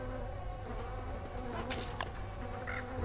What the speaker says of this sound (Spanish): Estos son mosquitos.